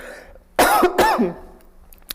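Two sharp, close coughs in quick succession, with a faint throat sound afterward, against a quiet background.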